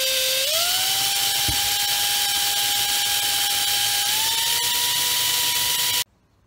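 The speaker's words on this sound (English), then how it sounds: "let me get to drilling real quick" A power drill runs steadily while boring holes to mount a snowboard rack, its motor whine holding one pitch before stepping slightly higher near the end, then cutting off abruptly, with one brief knock partway through.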